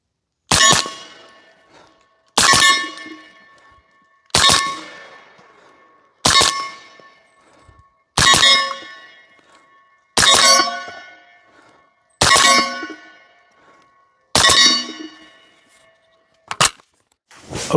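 Q Honey Badger rifle fires paired shots at 20 yards, each double tap ringing off steel targets with a sharp clang and a decaying metallic ring. About eight evenly spaced pairs come in steady rhythm, loud and close, with no talk.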